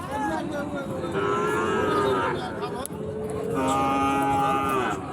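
Deshal and Sahiwal bulls at a cattle market sound two long, loud, drawn-out moos one after another over a busy background murmur.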